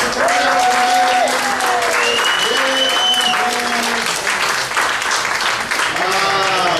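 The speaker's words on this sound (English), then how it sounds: "give yourselves a big round of applause." Loud, sustained applause from a roast audience, dense clapping mixed with crowd noise and voices throughout, with some tonal sounds riding on top.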